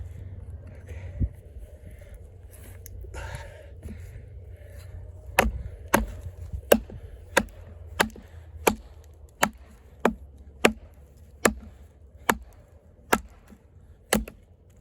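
Heavy knife blade striking into wood on a bushcraft task, a steady series of about a dozen sharp, evenly spaced chops, close and loud, after a quieter stretch with faint scraping.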